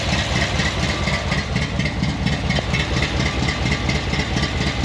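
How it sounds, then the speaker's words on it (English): A squarebody truck engine idles through dual chambered mufflers with a slight header or collector leak, giving a deep, loud, rumbling burble with a steady, lumpy pulse close by and no speech. "The dual chambered mufflers with the whole delta flow thing sounds awesome."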